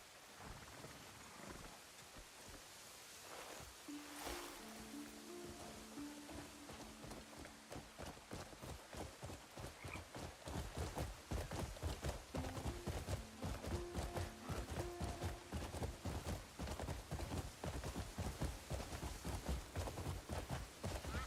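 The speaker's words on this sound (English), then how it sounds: "the horse riding feels very off somehow" Rapid, steady hoofbeats of a galloping horse in the video game Crimson Desert, growing louder and denser as the ride continues, with brief faint musical tones early on.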